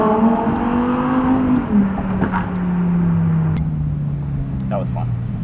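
Lamborghini engine revving while driving through Miami, a loud rising and falling drone with a shift-like dip, people talking over it inside the car.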